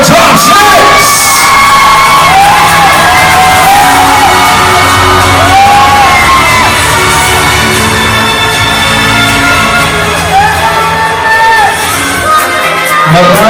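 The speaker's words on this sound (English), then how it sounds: "A big round of applause, ladies and gentlemen, our top six!" Crowd at the Mister Gay World Philippines 2025 pageant cheers, whoops and shouts loudly and continuously for the top six announcement, with a dense roar filling the hall throughout.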